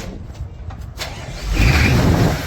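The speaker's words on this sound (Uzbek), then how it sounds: "Motor bu yerga keladi." A motor vehicle engine cranks and catches on a city street during rubbish collection, a louder rumbling surge building after a second of lighter noise, close by.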